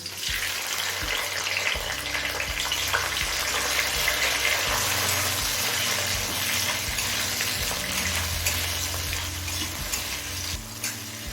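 Thinly sliced tomatoes, green chillies and bay leaves frying in hot oil, a loud continuous hissing sizzle with occasional stirring scrapes, steady and close, no talking.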